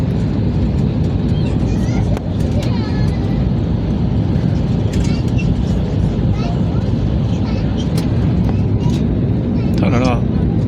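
An airliner landing at Istanbul on a flight from Geneva, heard from inside the cabin as a loud, steady broadband roar of engines and airflow that lasts throughout, with faint voices underneath.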